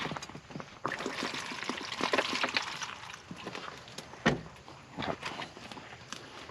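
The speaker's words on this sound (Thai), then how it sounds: "ก่อนจะใส่น้ำจริงขอใส่น้ำล้างก่อนนะ" Water pours into a 3-litre Enduristan hydration bladder to rinse it, trickling and splashing unevenly against plastic. Handling knocks and rustles sound close by.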